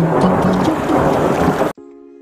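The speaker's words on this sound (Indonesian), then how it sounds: "Di tengah guyuran hujan" Heavy rain pours during a storm over a themed village in Mulyaharja, South Bogor, West Java, a loud dense wash that cuts off abruptly near the end into a faint tonal hum.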